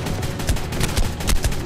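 Rapid gunfire from the video game Ark, a string of sharp, loud shots in quick irregular bursts close up, with no talking.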